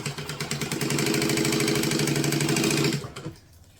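A sewing machine runs fast stitching the side seams of a fabric bag, making a loud, close, steady mechanical whir with rapid rhythmic ticking that builds up, holds, then winds down and stops near the end.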